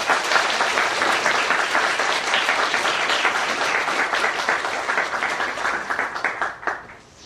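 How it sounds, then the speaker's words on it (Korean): A congregation at a Baptist church's 50th anniversary and ordination service breaks into loud, warm applause, many hands clapping steadily for several seconds before the sound tapers into a few scattered final claps. "큰 박수로."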